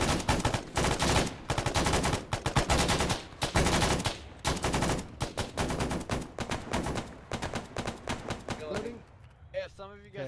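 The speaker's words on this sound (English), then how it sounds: "Shots to the left." Gunfire in an urban combat scene, rapid dense volleys of shots nearly nonstop, loud and close, with shouted voices mixed in, trailing off near the end.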